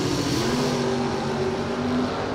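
A Jack Joyner Racing Mopar drag car accelerating hard down the strip, a loud, sustained engine roar with a rising tone heard from a distance.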